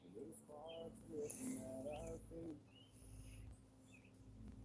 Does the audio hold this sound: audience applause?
no